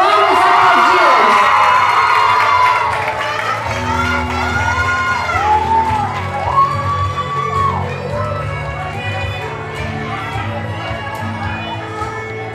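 A crowd cheers and shouts loudly at first, then the noise settles into scattered whoops and children's voices with some clapping under it.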